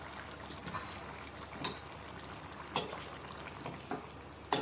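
Chicken curry sizzles and bubbles faintly in a pot as potatoes are added, with a few soft clatters and splashes over the low, steady frying.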